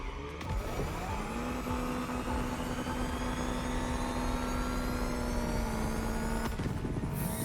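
An EV car with an American Dream engine swap, fitted with pops and bangs, accelerates hard in The Crew Motorfest, a loud sustained engine note climbing and holding pitch before a quick shift near the end.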